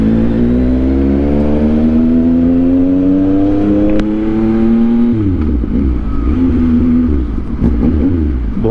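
Motorcycle engine revving hard on a road, a long rising whine that climbs in pitch for several seconds, drops abruptly, then surges again, loud and close.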